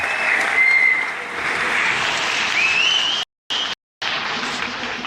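Audience applause fills a large arena hall at Ahoy during a Bigi Poku Toppers show, a steady dense wash of clapping with a couple of brief cuts to silence near the end.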